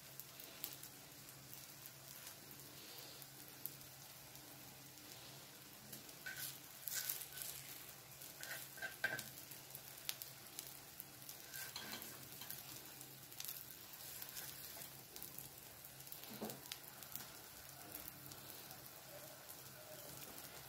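Bread heating in oil in a pan on the stove gives a soft, steady sizzle and crackle that runs throughout, fairly quiet, with a few louder spits here and there.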